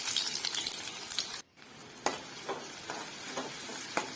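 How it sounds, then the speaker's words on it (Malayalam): Small onions sautéing in coconut oil for a horse gram curry, with a loud, dense sizzle that cuts out briefly, then returns with several crisp ladle clinks and scrapes against the pan. "ഇനി വെളിച്ചെണ്ണയിൽ ചെറിയ ഉള്ളി നന്നായിട്ടൊന്ന് മൂപ്പിച്ചെടുക്കാം."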